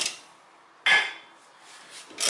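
A metal brake cover on a 2002–2010 Toyota Corolla scrapes and rubs as it comes off, with a sharp metallic scrape near the middle followed by softer rubbing and another scrape at the end, close and fairly quiet.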